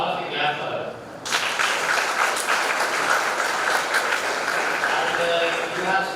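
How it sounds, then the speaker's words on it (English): An indoor audience at a continuing education programme bursts into sustained clapping that starts abruptly after a second and holds steady and loud to the end, with murmured voices beneath. "So all of you clap for her."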